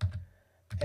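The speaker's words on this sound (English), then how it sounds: "So if I type here, and let's say I type in" Typing on a computer keyboard: two short key clicks at the start, a near-silent gap, then another pair of soft clicks, close and quiet.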